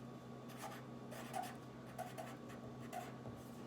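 A pen writes on paper in short, quiet scratching strokes, several brief scribbles spaced across a few seconds, close and soft.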